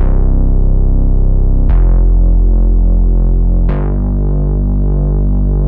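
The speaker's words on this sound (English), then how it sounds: "So together, these two make up the bass line," Layered bass line from a Juno 60 style chorus bass synth stacked with a deep sub preset rolls through three long, loud notes, each starting with a bright attack over a heavy, steady low end, with no talking.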